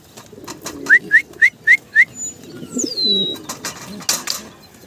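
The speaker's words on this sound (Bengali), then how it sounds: "এখানে ব্ল্যাক এক পেয়ার লাহরি কবুতর দেখেন" A pair of black Lahori pigeons on a farm give soft, low coos, while a run of five quick, evenly spaced chirps and a rising whistle from other birds cut in above them.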